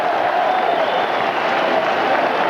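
A rugby crowd at Rodney Parade in 1986 roaring and applauding after a Newport try, a dense, loud, steady wash of cheering throughout.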